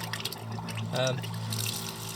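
A faint trickle of water runs from the tap of a nearly drained van water tank, brief and soft beneath a quiet background hum, with speech nearby.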